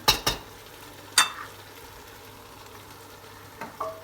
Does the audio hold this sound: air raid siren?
no